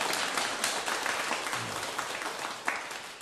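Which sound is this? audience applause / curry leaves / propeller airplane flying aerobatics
audience applause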